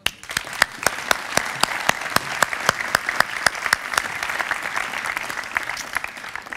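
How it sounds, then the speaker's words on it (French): Audience applause at an award ceremony, a steady wash of many hands clapping with sharp individual claps standing out, loud and sustained through the whole stretch without pause. "On applaudit Pierre ?"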